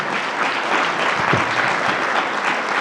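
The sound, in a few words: audience applause for Chancellor John King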